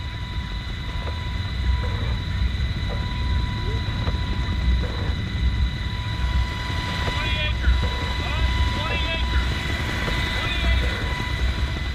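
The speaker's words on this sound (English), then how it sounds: "We fly in a helicopter." A Black Hawk helicopter crew on a wildfire firefighting mission, with a steady loud rotor and engine drone throughout and faint tonal whines over it.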